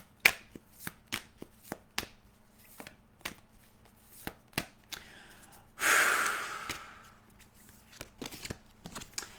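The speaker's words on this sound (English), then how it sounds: "Olivia, I'm going to pull for you an angel card" A deck of angel cards being shuffled by hand, a run of soft irregular riffling clicks close by with one longer rushing swish partway through, quiet and without talk.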